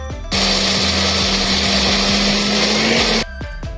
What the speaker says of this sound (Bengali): এটা মিক্সিং জারে দিয়ে ব্লেন্ড করে নেব।